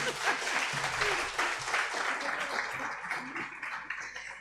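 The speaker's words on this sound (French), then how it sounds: "Applaudissez le Seigneur." Church-style audience applauding during a panel session, moderate clapping heard from some distance with faint voices mixed in.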